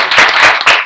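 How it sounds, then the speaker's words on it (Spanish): Audience applause at the close of a Spanish-language talk, a dense burst of many hands clapping, loud and close, filling the whole short moment without voices. "Un aplauso a ustedes mismos."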